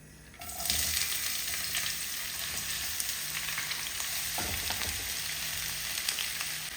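Sliced onions sautéing in a hot pan for a chickpea biryani, a steady close sizzle and crackle that starts abruptly and runs throughout, with a few brief stirring scrapes partway through; no talking.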